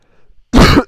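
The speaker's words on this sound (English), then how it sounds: "Sorry for the coughing noises." A single harsh, loud cough bursts out close to the microphone after a moment of near silence, with the start of a second one at the very end.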